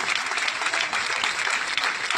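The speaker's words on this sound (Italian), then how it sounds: "Un applauso a Gennaro che anche si è commesso, dai." Steady applause from a live concert audience at an outdoor town event, a dense, even wash of clapping filling the short moment.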